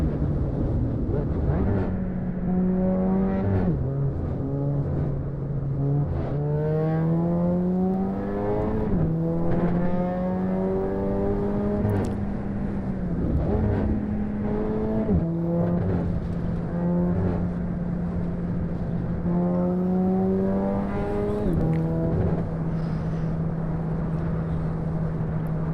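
A car in the driving game Assetto Corsa runs loud and close, its engine note climbing repeatedly through the gears with brief dips at each upshift, then holding steady stretches.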